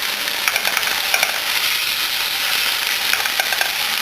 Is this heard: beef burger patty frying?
yes